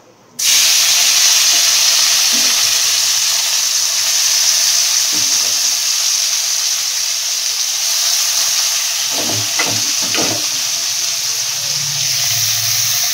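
Onion drops into hot oil in a pan for mutton curry and bursts into a loud, steady sizzle that hisses on continuously, with a few faint stirring knocks near the end.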